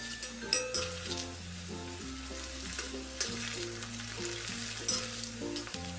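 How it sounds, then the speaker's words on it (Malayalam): Cauliflower frying in oil over a medium flame makes a soft, constant sizzle with a few light clinks, running beneath prominent background music. "ഒരു മീഡിയം ഫ്ലെയിമിൽ വെച്ചിട്ട് വേണം നമ്മളിത് ഫ്രൈ ചെയ്തെടുക്കേണ്ടത്."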